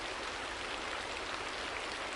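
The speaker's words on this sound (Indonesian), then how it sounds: "Hujan juga tinggal gerimis kecil-kecil, tidak lagi deras." Light drizzle falls in a soft, continuous broadband hiss, steady and fairly quiet, with no voices or other sounds.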